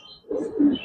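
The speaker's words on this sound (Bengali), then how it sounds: "বিগ সাইজের কবুতর, চারটাই।" Large Giribaz and coloured pigeons cooing in a loft, a short, close burst of low, throaty coos rising after a quiet start, with faint chirps in the background.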